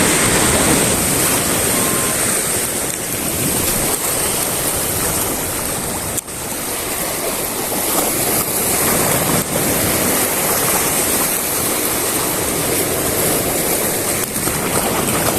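Ocean waves surge and wash against the shore at a fishing spot, a loud, continuous roar of churning surf with no clear breaks, heard up close and without talk.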